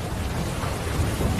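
Heavy rain pours steadily in a dense, close hiss with a low rumble of thunder underneath, continuous throughout.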